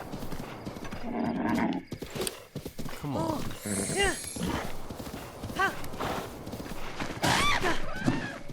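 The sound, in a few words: horse hooves galloping in Breath of the Wild video game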